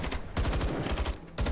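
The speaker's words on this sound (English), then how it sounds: "More than a dozen streams of gunfire tear through the icy air" Rapid bursts of automatic gunfire ring out in the video game Girl's Frontline 2 Exilium, loud, dense overlapping streams of shots with a short gap before another burst.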